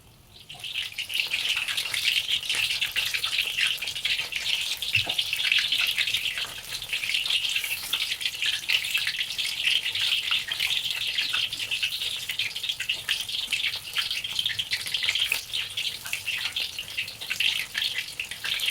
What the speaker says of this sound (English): So she's ready to start browning the pieces.